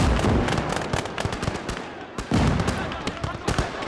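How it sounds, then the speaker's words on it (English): Artillery pounds away in a WWI battle game set on the Isonzo front, Italian guns firing as Alpini fight Hungarians: dense, rolling booms and crackling blasts overlap continuously, with a heavy fresh detonation about halfway through. "The Italian artillery crew today is hot on the pot"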